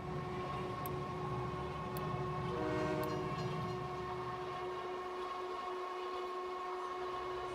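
An electric train in a video game runs with a loud, steady mechanical drone and sustained whistle-like tones, plus a few faint clicks, continuing evenly throughout.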